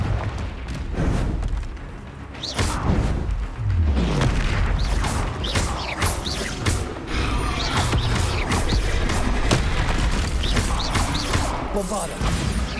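Fiery spell blasts from the Hogwarts Legacy video game boom and crash amid a dense, continuous wash of battle effects and mechanical clatter, with spoken game dialogue mixed in.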